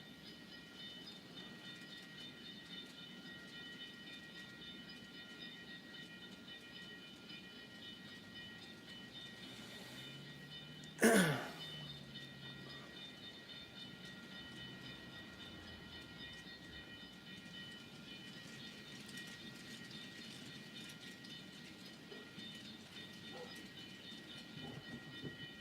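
A train at a lumber facility slowly backing up to couple a caboose, a steady low rumble with one sharp metallic bang of cars meeting partway through, distant and quiet, no talk.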